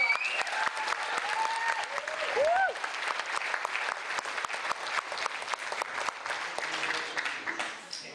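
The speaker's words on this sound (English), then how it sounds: "Give her a big round of applause." Enthusiastic applause from a crowd, steady clapping with some cheers and whoops, tapering off toward the end.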